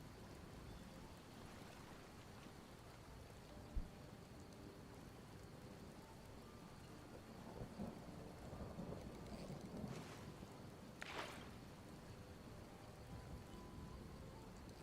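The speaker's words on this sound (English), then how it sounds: "we couldn't force fishing in rainy weather" Steady rain hisses across the whole stretch in Skyrim, with a low rumble of thunder building in the middle and a brief thump early on; no voices.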